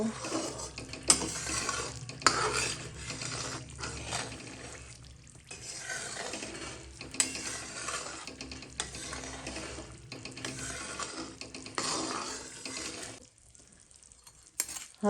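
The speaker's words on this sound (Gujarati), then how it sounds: "ફક્ત ગોળનો ઉભરો જ આવવા દેવાનો છે" Jaggery syrup bubbling in a pan while being stirred for gond pak, a steady close sizzle and scrape of the spoon with a few clinks of metal, running continuously before dropping off near the end.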